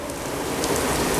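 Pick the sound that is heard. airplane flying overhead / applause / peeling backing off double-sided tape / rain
rain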